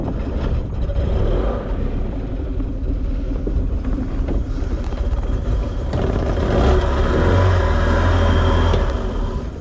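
A mini speedboat engine runs with a rough, rumbling drone that stays loud throughout and swells louder toward the end, mixed with water and wind noise.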